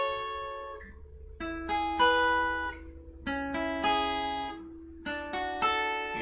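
A guitar picks chord-progression notes one at a time in a simple repeating arpeggio pattern, each note ringing clearly and decaying in a steady rhythm, played alone and close.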